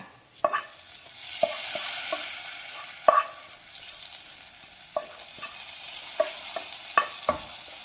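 A spoon scrapes and stirs roasted coconut into a bottle gourd and cowpea curry in a pan over a steady sizzle, with sharp clinks at irregular intervals; no voices.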